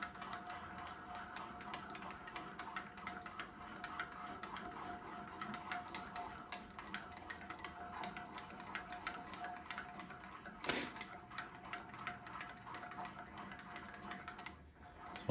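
Grizzly G0838 wood lathe tailstock quill cranked outward, a steady run of small ticking, ratcheting mechanical clicks from the handwheel and screw, close and fairly quiet, with one brief louder knock near the end and no talking.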